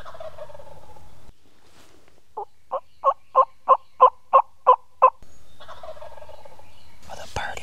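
A wild turkey gobbles from its roost in a run of about nine loud, evenly spaced calls, with quiet pauses before and after.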